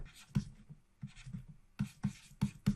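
Chalk or marker writing out a math equation during a lecture on integrals, a run of short sharp taps and scratchy strokes in uneven bursts, close and fairly quiet, with no talk.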